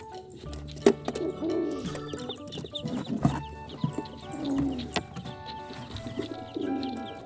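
Domestic pigeons in black, white and brown cooing repeatedly at close range, soft throaty coos mixed with other bird calls and occasional clucks over a quiet background.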